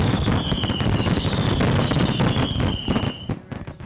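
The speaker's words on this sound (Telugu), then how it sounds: "ముఖ్యంగా ఇప్పుడు దీపావళి పండుగ వస్తే పిల్లలందరూ సరదాగా టపాసులు కాల్చుకుంటారు కదా" Firecrackers set off during Diwali crackle in a dense, continuous stream of rapid pops with a thin whistling tone above, loud and close, then thin out and stop near the end.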